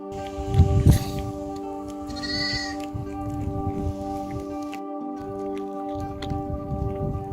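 Sheep on the North Ronaldsay shore bleat and call over a steady droning background, with a louder rough burst near the start and occasional higher cries, no talking.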